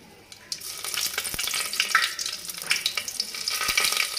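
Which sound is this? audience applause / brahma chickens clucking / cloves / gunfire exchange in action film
cloves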